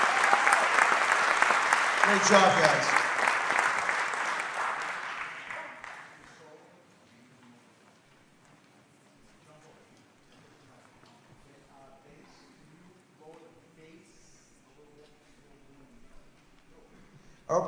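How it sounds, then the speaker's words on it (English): An audience at a spring school jazz concert applauds the Brewer Community School Jazz Band. A full burst of clapping fades out after about six seconds, followed by quiet room noise and someone speaking briefly. "How about another big round of applause for this outstanding Brewer Community School Jazz Band"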